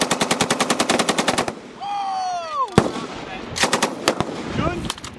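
A French FAMAS rifle fires during US Army training, with a rapid automatic burst of loud, close shots, then a descending whine and a sharp crack, then more shorter bursts and single shots, with a voice briefly audible.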